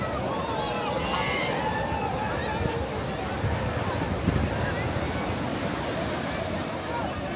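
Ocean surf washes continuously onto a wide, somewhat dirty beach where banana boats ride the waves. The roar is broad and steady, with wind buffeting the microphone and voices talking over it.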